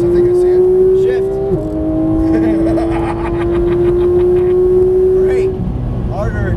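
A Porsche GT3 on a race track pulls hard under throttle, its engine note climbing steadily and loud after a brief shift dip, with a coaching voice talking over it.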